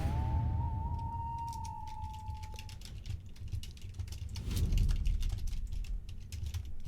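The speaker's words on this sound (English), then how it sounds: "I'm just typing things down." Rapid clatter of computer keyboard typing runs throughout at close range, layered over a steady low hum and a brief electronic tone near the start.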